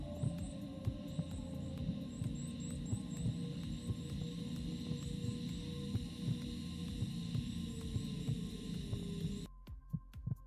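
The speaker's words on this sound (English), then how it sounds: "let me stop the heartbeat" Heartbeat sound effect in a dark storytelling podcast: a slow, regular low throb pulsing over a constant hum, continuing steadily before cutting off abruptly near the end.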